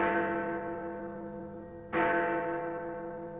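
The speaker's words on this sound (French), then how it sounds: "Comme ils arrivaient dans la vallée, la cloche d'un monastère voisin sonna minuit." A neighbouring monastery bell strikes at midnight, two resonant tolls with a long ringing hum between them, the second strike sharp and full before decaying slowly, with no voices.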